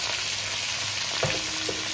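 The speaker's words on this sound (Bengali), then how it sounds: "আলু ভাজা বসে দিয়েছি" Potatoes fry in hot oil in a pan in a home kitchen, giving a steady close sizzle with a brief stirring clatter partway through.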